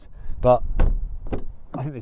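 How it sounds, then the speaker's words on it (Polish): A BMW car door is shut in a comparison with Audi and Mercedes doors, giving a short solid thud close by while someone talks over it. "Ale te drzwi chyba brzmią najgorzej."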